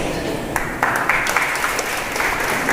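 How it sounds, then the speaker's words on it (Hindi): An audience bursts into loud, sustained clapping at a motivational talk, a close, continuous patter of hands with sharper claps standing out. "ताली बुलंद चाहिए।"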